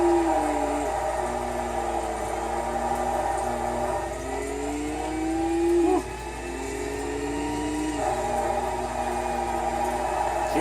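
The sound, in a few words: turbocharged Nissan Skyline engine revving in Forza video game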